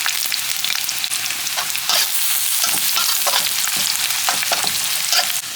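Chopped onions with green chilies and carrot frying in a pan, a steady loud sizzle with occasional scraping stirs, close up and with no talking.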